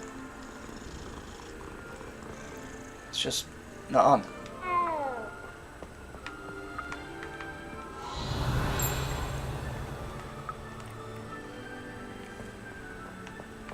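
Cat in the Hogwarts Legacy video game gives a few short, close meows in quick succession while being petted, followed by a softer, rougher stretch; someone speaks briefly.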